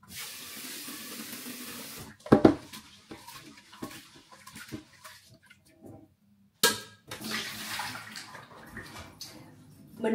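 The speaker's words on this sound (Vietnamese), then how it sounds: "Một chén gạo lứt bỏ vô trong nồi và đi rửa cho sạch." Red-brown rice being rinsed with water in a pot, with tap water running and splashing in bursts, then a pause before more close, loud sloshing and rushing water.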